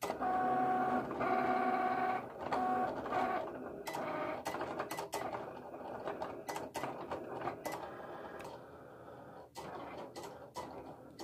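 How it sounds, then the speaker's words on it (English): A Cricut machine cutting a logo for laptop bags whirs and steps along with tonal motor runs, then a busy stream of clicks and ticks, close and fairly quiet. "All you have to do is just press it. And the machine's gonna start cutting."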